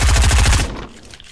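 A shotgun fires in a video game scrim match, a rapid burst of loud, close blasts that cuts off sharply and leaves a fading tail, with no talk.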